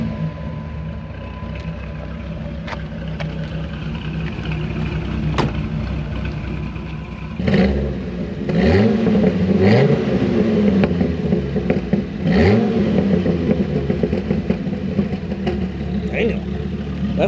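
A third-generation Dodge Viper V10 revs and accelerates up close, its low engine note swelling in repeated pulls while people talk over it in a cramped cabin.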